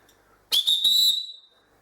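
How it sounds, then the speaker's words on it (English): A coach's handheld whistle gives one loud, shrill blast close by, with a couple of quick flutters, then tails off. It stands alone against a quiet background. "Well, again, I've got my whistle."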